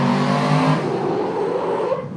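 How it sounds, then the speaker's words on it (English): Heavy trucks braking and slowing to a stop on a street, a steady, loud low engine rumble with a brief squealing tone early on, then fading toward the end. "These trucks are stopping good right now"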